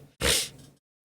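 A single loud, close sneeze bursts out after a brief pause, a sharp broadband blast that trails off over about half a second before silence.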